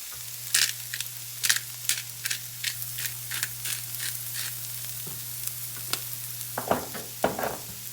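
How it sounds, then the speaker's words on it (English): Vegetables, including carrots, sizzle steadily in a frying pan with salt and pepper, a constant crackling fry with repeated stirring scrapes and a low steady hum beneath. "So as your veg is frying"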